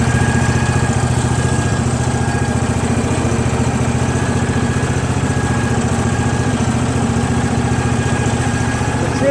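A Craftsman GT6000 garden lawn tractor engine idles steadily and smoothly, a close, even low-pitched chugging drone that holds constant throughout with no voices.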